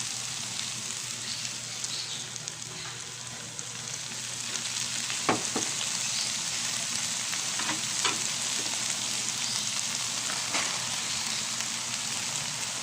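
Rice stir-fried with bacon and mixed vegetables in a hot pan gives a steady, close sizzle with occasional sharper scrapes and clinks of stirring, running alone without talk.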